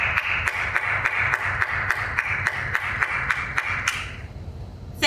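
Audience applauding the 2020 graduates at a university commencement ceremony, a steady wash of clapping with a few sharper claps standing out, fading away near the end.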